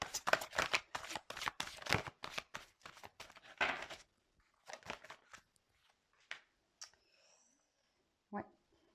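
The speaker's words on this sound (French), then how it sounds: "j'ai mal tapé mes cartes." Tarot cards being shuffled and handled in bursts of rapid riffling and flicking, with clicks and pauses between, close up and fairly quiet.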